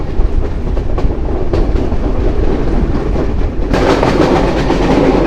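Sagardari Express intercity train rolling along the rails, a steady loud rumble with wheel clatter and carriage noise throughout, swelling louder and brighter near the end.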